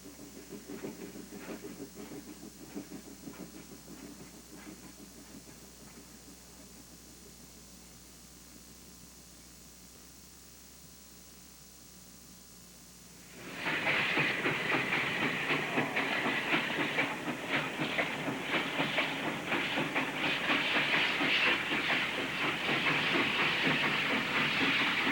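Steam shortline train switching cars at the Moorhead railroad interchange: a faint rumble and clatter at first, then a sudden loud burst of steady steam hiss that holds strong to the end.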